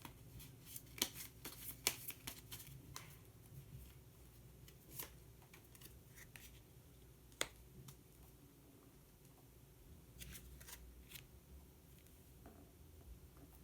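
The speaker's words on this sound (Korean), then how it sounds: "색깔로 알아보는 컬러 카드 한 장 더 뽑아보도록 하겠습니다." Color cards being shuffled and drawn: a steady, close papery rustle and shuffle with sharp flicks and snaps scattered throughout, no voices.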